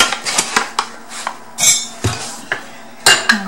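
Fish pancake batter with egg is mixed in a bowl: a utensil knocks and scrapes against the dish in quick, irregular clinks, close and clear with no talk.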